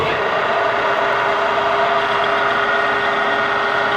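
A lathe with its spindle running steadily to drill a hole held in a drill chuck, giving a continuous loud mechanical hum and whir with no talk over it.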